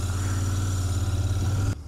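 A Royal Enfield Continental GT cafe racer motorcycle engine idles with a steady low thumping rumble close by, then cuts off abruptly near the end.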